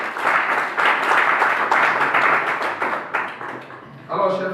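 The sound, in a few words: audience applause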